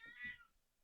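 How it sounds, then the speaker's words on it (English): A pet cat named Muffin gives a single short, soft meow, heard alone and fairly faint at close range. "Cat right there."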